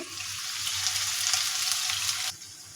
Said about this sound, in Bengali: এখন আমি তেল দিয়ে দিচ্ছি তো এখানে আমি কেটে রাখা পেঁয়াজ দিয়ে দিচ্ছি